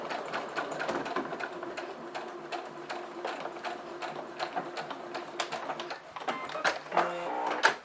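A sewing machine runs a straight-stitch seam 1 cm from the edge of a Halloween pyramid pouch, its steady mechanical chatter close and continuous, with a few backstitch bursts and clicks near the end.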